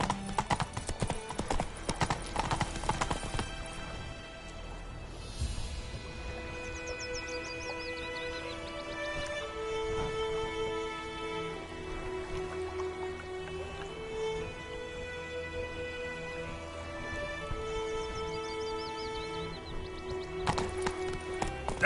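In The Witcher 3, the horse Roach trots with a steady, crisp clip-clop of hooves that runs throughout, set against soft in-game music.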